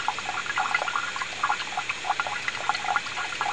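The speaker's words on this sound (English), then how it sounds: "there's water dripping from this faucet inside" Water trickling and dripping from an indoor faucet in a house in freezing weather, a steady faint splashing with small irregular drip accents throughout.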